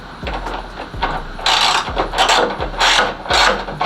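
Ratcheting wrench tightening a nut onto a bolt while fitting new front and rear impact strips on a box Chevy, a series of close, repeated clicking strokes in quick bursts with brief pauses between them.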